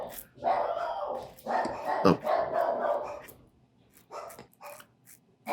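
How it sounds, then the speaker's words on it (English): Two dogs bark excitedly indoors, with a quick run of loud overlapping barks and yips at close range, then several scattered shorter barks. "Both dogs started going nuts at that time."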